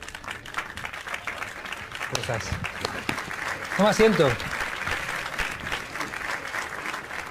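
Studio audience applause on a Spanish-language talk show as a guest is welcomed and seated, a sustained crowd clapping that runs throughout beneath a host's greeting, with brief speech in the middle.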